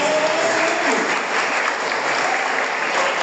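A church congregation applauds steadily during a Holy Family feast-day Mass, a dense, continuous clapping that fills the whole stretch at a fairly loud, even level.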